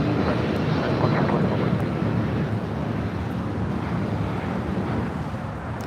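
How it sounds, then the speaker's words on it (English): A United Airlines Boeing 757-200 jet takes off at LAX, giving a loud, steady, broadband engine roar with wind buffeting that holds throughout and eases slightly toward the end. "757 taking off. United Airlines flight 2448 heading to Houston, Texas in a 757-200."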